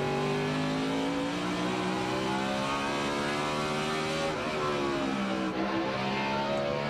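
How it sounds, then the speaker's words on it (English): NASCAR truck race car engine recorded from an onboard hood-pin camera at the 2004 Advance Auto Parts 500, a loud sustained roar with rising and falling harmonic tones as the engine revs through shifts, close and alone without talk. "We call it our hood pin shot, riding with Johnny Sauter in the 30 car"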